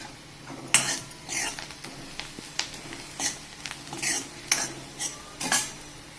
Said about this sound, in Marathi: कांदा छान लाल लाल परतून झाला आहे टाकून घेऊया थोडी हळद